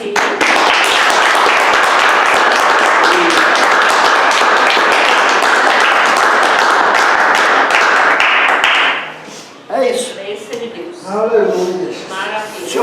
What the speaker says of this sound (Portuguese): Podemos encerrar com palmas para ele merece palmas.